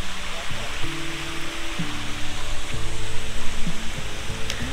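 Steady broadband rush of flowing water from waterfalls and streams along the Tungareshwar trek, heard continuously at close range, while a person speaks over it throughout.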